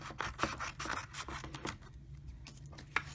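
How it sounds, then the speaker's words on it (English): Scissors snip and scrape through custom Amiibo box art paper in a run of quiet, close, irregular cuts, then a few sparser snips after a brief pause. "take your custom box art that you're doing and just cut it out"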